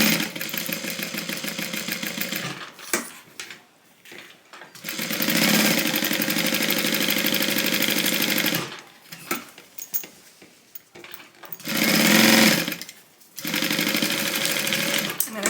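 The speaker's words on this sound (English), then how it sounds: "So I'm going to sew everything closed" A sewing machine stitches the sides of a fabric tote bag closed in several long loud runs, its motor whirring steadily for a few seconds at a time between short pauses.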